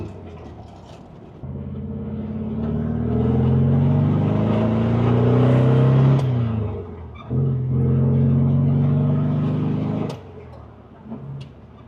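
A Volkswagen with a 1.6 air-cooled flat-four engine hums steadily as it drives, the low throaty drone swelling as the engine revs, briefly dipping between gears, then settling back.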